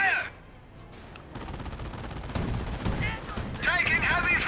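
Gunfire in the Company of Heroes 1 strategy game rattles in rapid machine-gun bursts and scattered shots, growing louder midway, with a combat voice calling out over the shooting.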